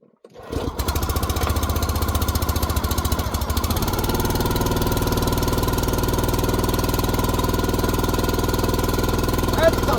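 Small $133 Princess Auto engine, still not broken in, starts up and runs steadily at a loud, close, rough chugging pulse for the whole stretch after a brief start, with a heavy low drone.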